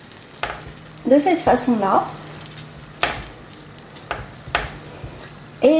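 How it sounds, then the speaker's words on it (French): Beaten eggs poured over an omelette and mechouilla in a sizzling tagine pan, with a soft hiss and a few brief stirring scrapes and clinks, while a person talks briefly over it. "je vais verser les œufs par-dessus l'omelette et la mechouilla"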